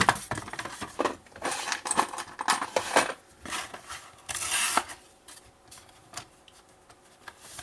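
A cutting blade slices through cardboard pieces for a scrapbooking album, producing a series of sharp, close scraping cuts and crisp rustles in irregular bursts, with quieter handling noises between them.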